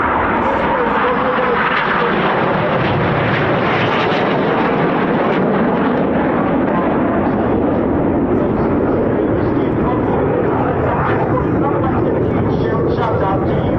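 Red Arrows jet aircraft flying in formation at the RAF Cosford Air Show, a loud, continuous roar of jet engines that swells and shifts as the formation passes, with a commentator speaking over it.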